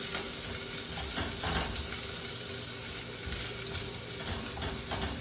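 Bacon sizzles and crackles steadily in a hot pan, a dense, close frying hiss with occasional stirring.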